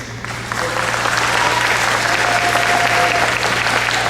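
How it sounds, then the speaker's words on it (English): Audience applause fills a room at a Hmong business gathering in North St. Paul, a steady, loud wash of clapping from a crowd that holds for several seconds. "give a round of applause for Luam."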